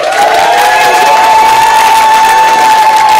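A church congregation applauds and cheers for the Lord, a loud, dense, continuous wash of clapping and shouting that fills the whole stretch, with a sustained tone running underneath.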